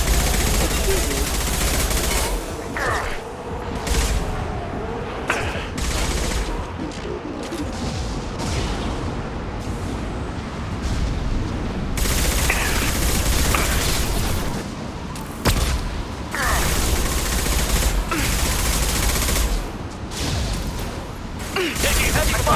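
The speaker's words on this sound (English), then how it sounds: "Taking heavy fire!" Heavy gunfire erupts in the sci-fi shooter Mass Effect 2: loud, dense bursts of automatic weapons fire and booming impacts roll on and off in waves, with game voices shouting over the chaos.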